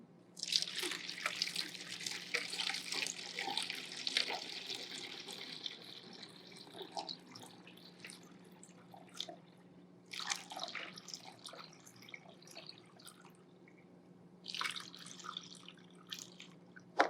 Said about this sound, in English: And we are going to pour it into the bottle.